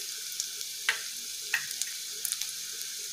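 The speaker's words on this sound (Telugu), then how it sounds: "కరివేపాకు వేసుకొని ఫ్రై చేసుకోవాలి." Green chilies and curry leaves fry in oil with cumin, mustard seeds and chopped onion, a faint steady sizzle broken by a few light taps and scrapes of stirring, close by and quiet.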